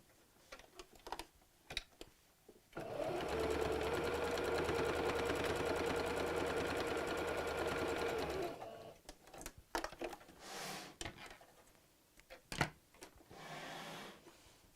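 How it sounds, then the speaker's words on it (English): A domestic sewing machine runs in one steady burst of about five seconds, stitching closed the bottom of a stuffed fabric bunny, with quieter handling clicks and fabric rustles before and after. "we're just going to sew across the bottom to close that hole on our sewing machine"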